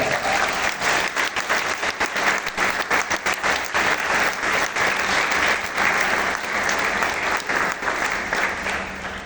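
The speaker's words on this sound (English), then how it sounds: "Give them a round of applause" A large audience applauds presenters on a stage, loud, dense clapping that runs continuously and evenly, fading slightly at the very end.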